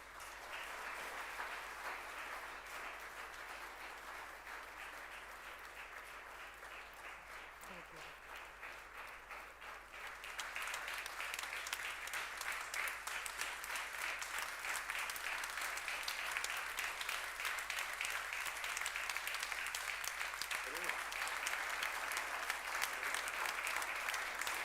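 Sustained audience applause at a live memorial tribute, steady and dense throughout and swelling louder partway through, with no speech over it.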